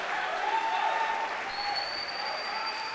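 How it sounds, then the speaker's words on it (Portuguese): Church congregation applauding during a Christmas sermon, dense sustained clapping from a large crowd at even loudness throughout, with a faint held tone running underneath. "Se é para Jesus, então aplaude mesmo."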